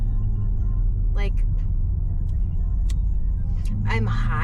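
An Isle of Man Green BMW XM being driven, its low engine rumble droning steadily through the cabin while voices talk over it.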